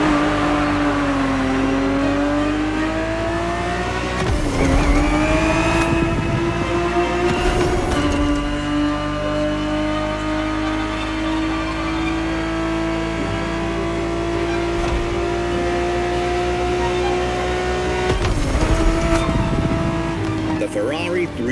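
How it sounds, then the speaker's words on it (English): The engine of a Ferrari 365 GTB4 in the racing game The Crew Motorfest holds a steady, sustained drone with slight pitch swells and a few louder bursts, under constant speech-like sound. "The Ferrari 365 GTB4 is the perfect vehicle for you to experience Ferrari racing as it felt back in the 70s"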